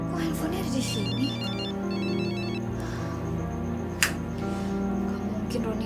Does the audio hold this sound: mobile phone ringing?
yes